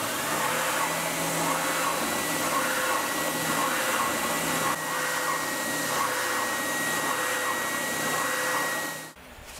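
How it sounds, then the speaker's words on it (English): A shop vacuum and spindle sander run together in a loud, steady whine and roar, close by, then cut off abruptly at the end. "Let's turn the vacuum on and get back over to the spindle sander."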